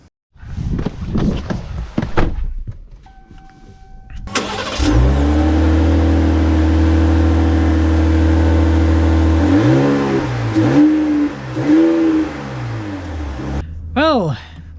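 2025 Ram 1500 Rebel pickup truck starting and setting off, the engine settling into a loud steady drone, then revving and shifting as it drives away, with someone talking at the start.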